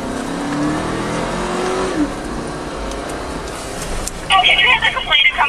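Cross traffic on a Buffalo street: cars passing nearby with a steady engine and tire roar, followed near the end by a brief higher-pitched chirping burst.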